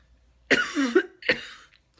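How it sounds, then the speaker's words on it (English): Two close coughs, the first longer and throaty, the second short and sharp, with quiet pauses around them. "cough if you need to"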